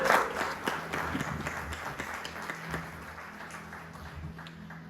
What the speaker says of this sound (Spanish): Denle un aplauso al Señor por eso.